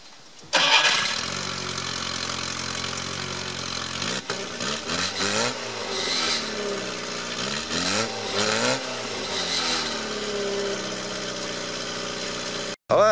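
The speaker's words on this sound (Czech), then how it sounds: "on fakt nejede, on to jenom chrchle" A Škoda 130 car engine cranks and catches, then sputters and chugs unevenly with wavering revs, near and loud and failing to settle into a steady run, no voices.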